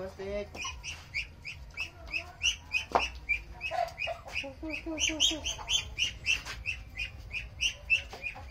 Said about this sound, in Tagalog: May nakapasok na itik.